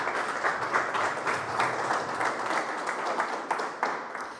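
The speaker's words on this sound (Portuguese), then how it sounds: "Você pode aplaudir o Senhor?" A church congregation claps for the Lord in a sustained, fairly loud burst of many hands, with a slightly rhythmic pulse and a low hum underneath.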